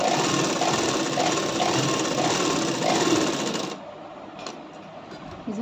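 A sewing machine runs steadily while stitching the sleeve of a katori blouse, a loud continuous mechanical whir for nearly four seconds that stops abruptly, leaving a quiet room with a few faint clicks.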